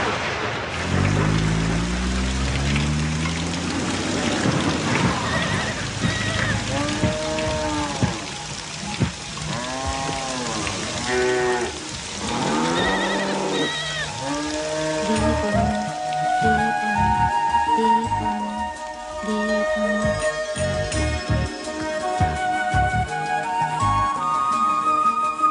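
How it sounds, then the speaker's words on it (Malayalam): Steady rain falls throughout a comedy scene, a continuous hiss with dense patter. It plays under swelling background music that fills the middle and later parts. "മഴ വന്നപ്പോ"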